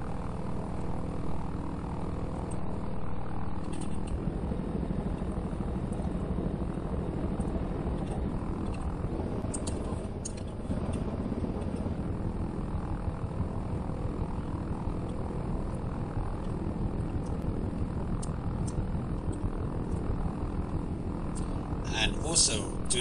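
Propeller airplane cruising in the BeamNG video game at about 1,300 feet and 50 to 60 knots, a steady continuous engine drone running throughout with a brief higher whine near the end.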